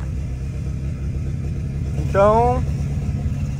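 A Volkswagen Gol turbo engine revs once briefly, its pitch rising over a steady idling rumble, while someone says a word.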